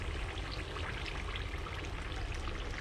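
Somali mushmush batter pouring into a hot pan over medium heat, giving a steady, close, continuous liquid trickle and sizzle with no talking.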